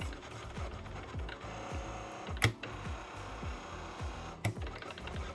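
A Liene PixCut S1 sticker cutter runs steadily, its motor ticking and whirring in a fast repetitive rhythm at close range, with two sharp clicks along the way.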